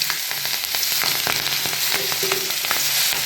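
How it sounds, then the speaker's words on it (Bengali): Nigella seeds and green chillies sizzle in hot oil for a pomfret fish dish, a steady close crackle with a few soft stirring knocks and no voices. "ওই তেলের মধ্যে প্রথমে কটা কালো জিরা করে নিলাম কটা কাঁচা লঙ্কা দিলাম"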